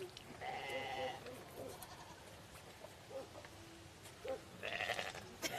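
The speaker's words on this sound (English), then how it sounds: "all the goats just stunned looking at us" Goats bleat in short, wavering calls, one near the start and another toward the end, over a low rumbling background, with faint voices at times.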